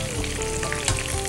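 Breaded rack of lamb with cheese frying in hot oil, giving a steady, dense sizzle and crackle with no voices.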